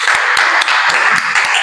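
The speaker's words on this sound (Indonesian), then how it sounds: "Tepuk tangan dulu." A class claps for a group's presentation, a quick run of close, sharp claps at an uneven pace, loud over a steady background hiss.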